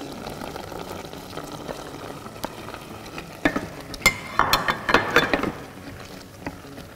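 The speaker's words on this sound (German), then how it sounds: "Rühre ich nochmal gut um. Und dann kann das nochmal so ein bisschen weiter köcheln." A spoon stirs a simmering one-pot dish with beans, giving a run of quick scraping, clattering strokes against the pot over a soft bubbling background.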